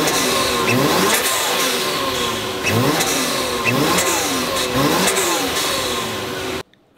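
A Toyota Soarer's 1JZ engine revs repeatedly from idle in the rain, each rise and fall of revs ending with the hiss of a Blitz blow-off valve. The loud, close bursts come in a steady rhythm before cutting off abruptly.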